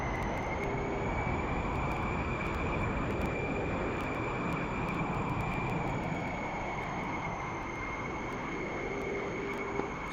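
Steady jet engine roar from a simulated JAS 39C Gripen or Su-25T combat aircraft in a flight simulator game, a continuous loud broadband rumble with a high whine holding constant throughout, no talk over it.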